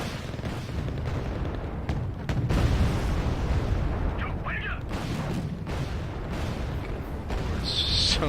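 Tank battle in the video game Wargame: Red Dragon, with T-72s fighting K1s: a dense stream of booming cannon fire and explosions rolls on under a talking voice, with sharper reports scattered throughout.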